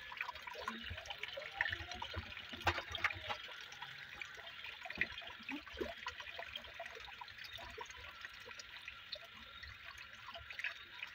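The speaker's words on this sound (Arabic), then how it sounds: "انا ناسي اساسا ان الميه شغاله" Tap water running steadily into a kitchen sink, a soft continuous splashing with occasional faint clinks, fairly quiet and with no talking.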